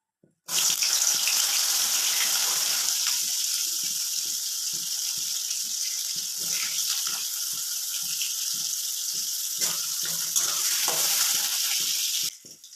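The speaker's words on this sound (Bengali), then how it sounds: "সয়াবিনটাকে আগে ভেজে নেব।" Soybean chunks fry in a pan with a loud, steady sizzle that starts abruptly and holds for several seconds before cutting off, with faint stirring knocks underneath.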